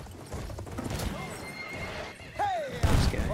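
In Battlefield 1 gameplay, a horse gives a loud whinny over hoofbeats and clip-clop, amid gunfire and battle noise, with someone talking over the action.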